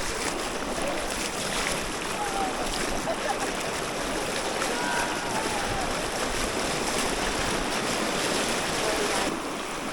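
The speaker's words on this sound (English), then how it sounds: "I am now going to attempt to see how much I can take in this rushing water." Rushing river rapids roar in a constant, dense wash of turbulent water that stays loud and close, with wind buffeting the microphone throughout.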